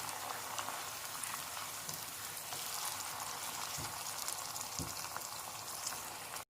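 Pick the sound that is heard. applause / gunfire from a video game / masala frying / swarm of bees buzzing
masala frying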